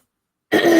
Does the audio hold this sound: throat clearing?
yes